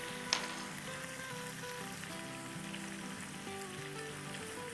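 Masala spices roasting in oil for tandoori kebabs give a faint, steady sizzle with soft bubbling under a low background hum, with one brief clink near the start and no voices.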